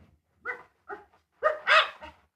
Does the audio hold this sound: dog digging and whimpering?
yes